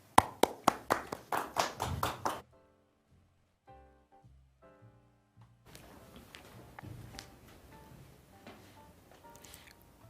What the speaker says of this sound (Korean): 박수로 모셔보겠습니다